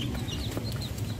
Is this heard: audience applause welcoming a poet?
no